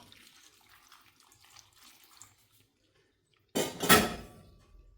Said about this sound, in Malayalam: ആവശ്യത്തിനുള്ള വെള്ളം ഒഴിച്ചു കൊടുക്കുക